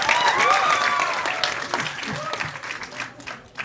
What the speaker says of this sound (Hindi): कम ऑन गाइस, जोरदार ताली होनी चाहिए।